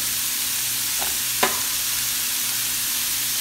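Pumpkin and methi leaves cook in a pan with a steady soft sizzle, broken by two brief clinks of a spoon stirring the mixture.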